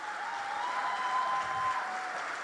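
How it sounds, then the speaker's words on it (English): Parents at a kindergarten concert applaud the young performers, a soft, distant and even patter of clapping sustained throughout, with a faint tonal hum beneath. "Please, parents, give a big round of applause for my little ones"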